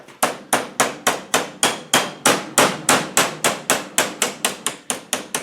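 A hammer taps a Rover V8 hydraulic tappet in a steady, even rhythm, around twenty crisp close strikes with a brief ring after each one.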